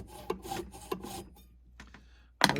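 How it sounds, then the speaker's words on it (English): A small burr knife cuts slots into a metal bezel held in a vise, giving short rasping back-and-forth strokes up close, followed by a sharp metallic clatter at the end. "And a little burr knife first. And here we go."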